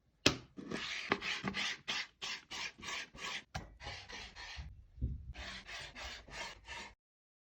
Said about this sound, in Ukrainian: Беремо багато м'яса, нарізаємо його дрібними шматочками.